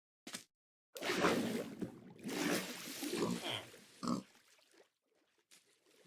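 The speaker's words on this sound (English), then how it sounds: "There we have our two pigs." Minecraft pigs oink in a string of short, nasal grunts, a few separate squeals then a longer run of snorts, moderately close with quiet gaps between.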